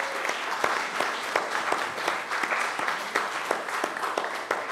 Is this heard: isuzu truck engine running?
no